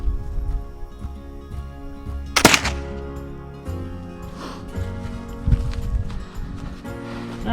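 A single sharp rifle shot from a Kibler southern mountain rifle cracks loudly and decays quickly outdoors, with quiet background sounds before and after.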